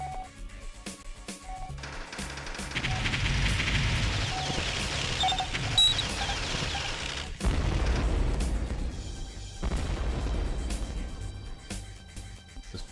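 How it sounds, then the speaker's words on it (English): Bomblets dropped in G-Police go off in a long run of booming blasts, heavy rumbling bursts that pile up, fade briefly and return, with no talking over them. "Alright, bomblets."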